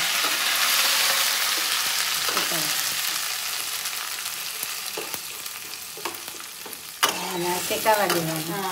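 Mustard seeds, green chili and tomato sizzle and fry steadily in a hot pan, a loud continuous crackle with a few sharper pops and stirring clatters near the end, close and dominant throughout.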